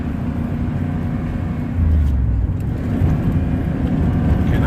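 A 1993 Chevy 4x4 pickup with a transmission that slips into neutral around 25 km/h labors uphill under throttle, a loud steady low engine drone heard from inside the cab that swells in strength partway through.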